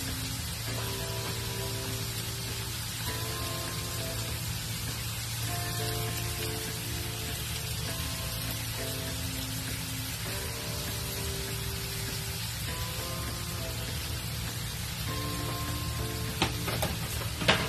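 Salmon simmers in coconut milk in a pan, giving a steady, fine bubbling sizzle that holds evenly throughout, with a faint tonal hum beneath it and a few louder pops near the end, without talking.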